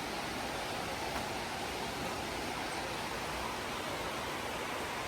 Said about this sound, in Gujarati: તો કંઈક ધોધ છે, આમ પાણી જાય છે નીચે